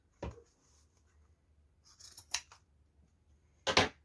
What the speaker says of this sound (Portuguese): Vamos pegar uma tesoura.